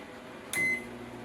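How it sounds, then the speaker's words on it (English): A microwave oven runs while heating a cup of water, giving a steady low hum. A single bright beep sounds partway through. "in the microwave."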